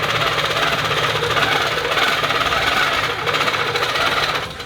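A longarm quilting machine stitches a T-shirt quilt with a loud, steady mechanical hum and rapid needle chatter that runs unbroken throughout and eases off at the very end.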